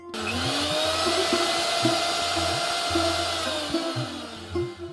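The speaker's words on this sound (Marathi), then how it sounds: "हे मिश्रण छान मिक्सरमध्ये एकत्र करायचं." A mixer grinder blends a sesame and ghee mixture with a loud, continuous motor whine, its pitch dipping and rising as the load shifts, close and alone for the whole stretch.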